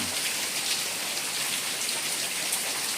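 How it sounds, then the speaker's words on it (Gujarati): Heavy monsoon rain in Mithapur pours down steadily as an unbroken, dense hiss of drops striking surfaces, with no voices. "જોવો વરસાદ ચાલુ ને ચાલુ જ છે"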